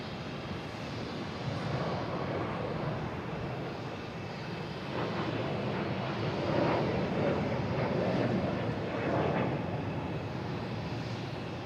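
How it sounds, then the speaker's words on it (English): A Delta Airbus A321neo taking off from Boston Logan International Airport for Phoenix sends out a broad jet roar that builds and peaks around the middle, close and steady, with no voices. "next taking off is Delta heading to Phoenix, an A321neo"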